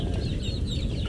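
A Shamo rooster, the sire of Shamo and Basilan crossbred chicks, clucks in a backyard. It gives a short, close burst of low clucking over steady yard noise, with no talk.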